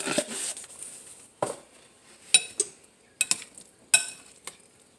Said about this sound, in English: We want to mix all those seasoning in well.